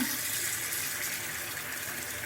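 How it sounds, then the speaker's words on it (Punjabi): Water gushes steadily from a tap into a sink, a continuous close rushing splash with no other sounds. "ਇਹ ਆਪਾਂ ਸਿੰਕ ਫੇਰ ਪਾਣੀ ਦਾ ਭਰਨ ਲੱਗੇ ਆ"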